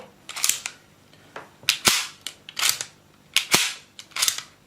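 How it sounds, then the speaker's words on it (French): Airsoft replica rifle with a WE magazine being power-stroked, giving sharp, loud mechanical snaps in closely spaced pairs and bursts, close up with no voices. "je peux power stroker la réplique sans aucun problème"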